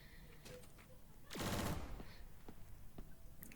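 Automatic gunfire from a gun in a Roblox Zombies video game, a short loud burst of rapid shots lasting under a second, with a few fainter single clicks and taps around it at low level.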